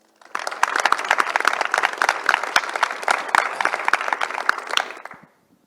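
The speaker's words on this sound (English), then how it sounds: "Please give them another round of applause" An audience at Space Center Houston applauds the panelists of a space law discussion, a dense burst of close clapping lasting about five seconds before stopping abruptly.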